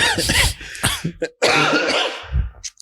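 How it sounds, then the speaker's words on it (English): A run of harsh, raspy coughs, close and loud, coming in quick bursts with brief pauses and a throaty clearing near the end. "so when y'all hear me cough"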